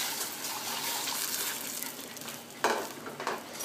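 Water and salt go into melted butter in a pan while making churros, producing a broad hiss and sizzle with a splashy burst partway through, close and steady.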